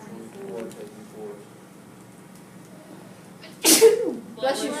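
A single loud, sharp sneeze breaks into a classroom after quiet background murmuring, followed by a brief burst of voices.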